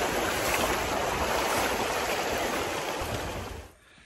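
A swollen river rushes at the wide crossing point on the Mt. Kiamo trek in Bukidnon, a steady dense roar of flowing water that drops off abruptly near the end.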